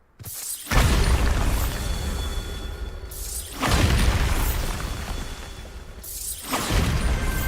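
Three Bombarda spell explosions in Hogwarts Legacy go off in turn, each a sharp booming burst with a whooshing, crackling tail that fades before the next blast hits, evenly spaced and loud.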